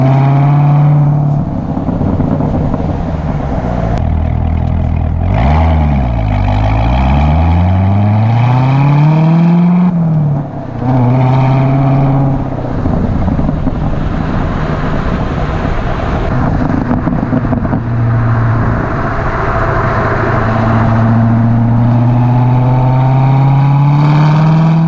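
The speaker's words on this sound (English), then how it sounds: "the noise when you let off the throttle in this car is quite possibly the greatest noise I have ever" A 2019 Chevrolet Corvette ZR1 engine and exhaust rev hard and loud up close, the pitch rising and falling in long sweeps with a sharp dip as the throttle lifts, followed by steady high-rpm droning.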